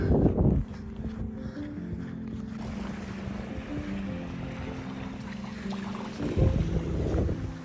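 Heavy wind buffets the microphone in rough gusts, strongest at the start and end, with a low rumbling undertone throughout.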